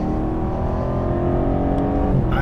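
An ALPINA B7 accelerates out of a corner, its engine giving a loud, steady, low drone heard from the cabin, sustained throughout with a slight shift near the end, and no one speaking.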